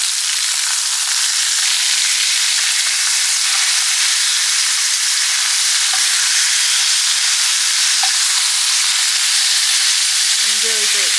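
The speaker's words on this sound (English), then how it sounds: "let this keep going until we get a nice brown sear on all sides" Pork browning in a hot pan for chile verde, a loud, steady sizzle and hiss that runs without a break, with a few faint clicks and a brief stir or shift of the meat near the end.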